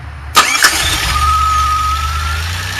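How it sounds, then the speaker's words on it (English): A DeLorean engine converted to a carburettor on a Peugeot manifold, heard close and loud as it catches with a couple of sharp bursts, then settles into a steady fast idle hum with a faint whine. "this is what they call fast idle"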